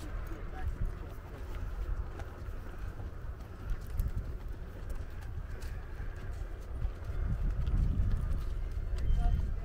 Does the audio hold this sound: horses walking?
yes